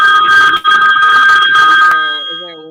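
A telephone rings steadily and loudly through a council meeting, with a bright, sustained electronic tone. It stops abruptly near the end, and a voice is heard briefly after the ringing ends.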